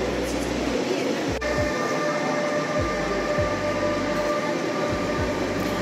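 An express airport train in Vienna runs steadily with a constant low rumble and faint tonal whine, with a few rhythmic clunks as the wheels pass over rail joints.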